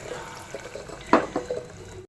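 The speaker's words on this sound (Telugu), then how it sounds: "వాటర్ పోసుకుంటున్నాను." Water is poured from a glass into a pressure cooker holding spiced goat leg paya, giving a soft, continuous liquid splash close by with a couple of louder sloshes partway through.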